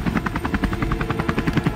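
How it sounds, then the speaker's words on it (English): A helicopter chops overhead in a loud, rapid rotor thump that pulses evenly throughout, close and alone with no voices. "the helicopter transports us to a distant location"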